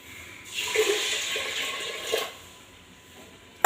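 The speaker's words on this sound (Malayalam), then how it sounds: "കുറച്ച് വെള്ളം ഒഴിച്ചു കൊടുത്തിക്കണം" Water gushes steadily into a pot for a couple of seconds, then stops, followed by a sharp knock at the end.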